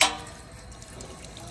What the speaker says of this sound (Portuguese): É um bebedouro, cara. Será que funciona?